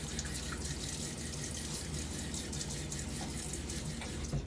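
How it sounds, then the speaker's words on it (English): Tap water runs steadily into a bathroom sink for face washing before a wet shave, a continuous broadband splashing hiss held at an even level throughout with no talk. "Let me throw some water on my face."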